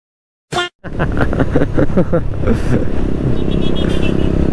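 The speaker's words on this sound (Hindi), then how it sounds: "ये है सुमित भाई की एम टी फिफ्टीन और वो है रेडर" Two motorcycles, a TVS Raider and a Yamaha MT-15, rumble at close range. A short burst is followed by a steady engine drone under loud nearby talk.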